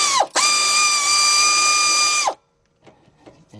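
A hand ratchet turns a bolt on the rear brake of a 2007 Honda Accord, giving a loud, close, steady clicking run of about two seconds, then a pause with a few faint handling noises.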